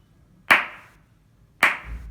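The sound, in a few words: hand clapping one beat per second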